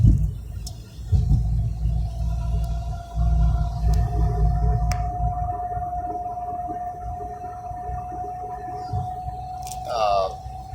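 Car cabin on a long highway drive from Chakwal to Karachi in Pakistan, with a steady low road and engine rumble, a constant tonal hum throughout and a brief rising whine near the end.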